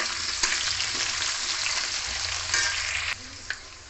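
Potatoes tossed into hot oil left from frying cauliflower give off a steady, close bubbling sizzle, with a few soft knocks from stirring and no speech.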